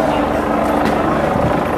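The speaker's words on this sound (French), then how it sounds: "On a un hélicoptère qui survole actuellement le quartier." A helicopter flies over a Paris neighbourhood during clashes with gendarmerie and riot police, its steady, loud rotor thump filling the air while someone talks over it.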